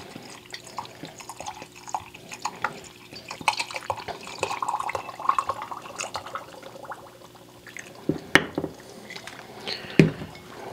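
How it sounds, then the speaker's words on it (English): Alcohol poured over ground varnish conk mushroom to make a tincture, a close liquid trickle with drips and splashes, building midway and ending in a couple of sharp bursts, with no talk. "Alright, we're just going to pour this in"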